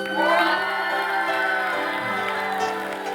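Church congregation at a Christmas thanksgiving service clapping and cheering for a winning team, with whoops, shouts and bright excited voices rising together over a lively, sustained crowd din.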